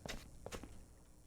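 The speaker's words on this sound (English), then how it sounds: "it's my footsteps" Soft footsteps in the video game POOLS fall in a quick, close cluster of light taps over a quiet background hum.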